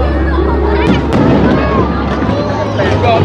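Heavy booms and crackling bursts of Chinese New Year fireworks at Jones Bridge, Manila, overlap continuously, with a low rumble and indistinct voices mixed in.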